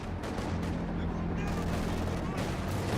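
Battlefield gunfire in the video game Company of Heroes 2 crackles in a dense run of shots and blasts over rumbling background effects, while a voice talks over it.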